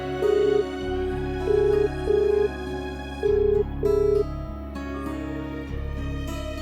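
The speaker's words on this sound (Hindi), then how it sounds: "मैं शनाया को फोन लगाता हूं।" A phone call is dialed and rings out, with short, repeated electronic tones in uneven bursts over a steady background hum and music-like drone, close and fairly loud.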